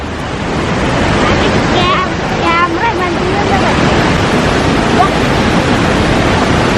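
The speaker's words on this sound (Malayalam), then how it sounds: "കണ്ട അവിടുന്ന് വെള്ളം ഒഴുകി വരുന്നു." Water flowing at Athirappilly waterfalls, heard as a steady broadband roar that fills the whole clip, with faint voices briefly audible underneath.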